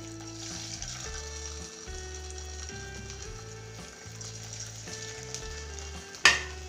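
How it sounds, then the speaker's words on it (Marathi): Thalipeeth flatbread fries in a little oil over medium heat, a soft, steady sizzle under a faint droning hum, with a sharp clatter near the end. "आता हे थालीपीठ आपण यामध्ये थोड्याशा तेलावर परतून घ्यायचे आहेत।"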